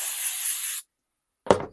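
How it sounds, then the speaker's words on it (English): A can of activator hisses as it sprays onto the back of a piece of foam for a hockey goal camera mount, one steady burst followed by a brief knock. "now I'm going to use some activator and spray the backside of my foam"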